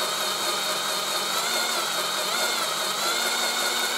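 A NEMA 17 stepper motor spins at about 300 RPM inside a converted tower fan turbine, giving a steady, continuous mechanical whine and hum with a high tonal edge. It runs at a constant level with no speech.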